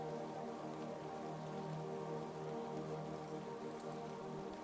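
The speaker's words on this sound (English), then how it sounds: "The sound of the rain was a constant," Steady rain falls continuously on surfaces outside a lake house at night, an even, soft hiss with dense pattering and no voices, constant throughout.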